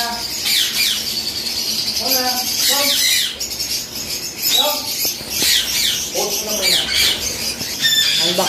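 Pet birds squawking and chirping while being unboxed, harsh repeated calls in short bursts close by, with faint talking in the background.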